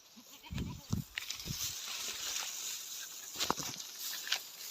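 Goats bleating outdoors while being herded through grassy hillside pasture: a few short, fairly close bleats early on and again around the middle, over steady background noise.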